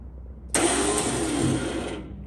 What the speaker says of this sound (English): that's a loud pump